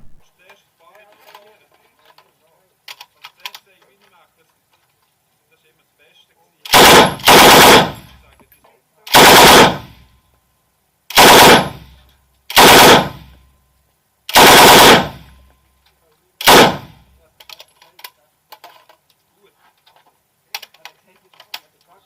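A Bren light machine gun fires six loud, close bursts, each a rapid string of shots lasting about a second, separated by short gaps, with faint clicks and handling noises before and after.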